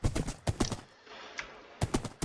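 Horse hooves clip-clop in Minecraft while the character rides, a short run of soft rhythmic thuds that stops for a quiet gap and then starts again.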